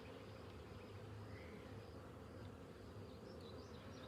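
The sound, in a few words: honeybees from a swarm buzzing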